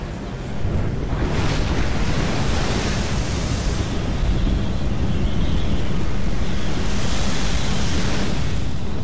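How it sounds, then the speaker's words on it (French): Steady wind and crashing waves roar in the Tomb Raider video game on PS4, a loud, continuous rushing wash that swells slightly over several seconds. "Il y a le vent qui est pas content."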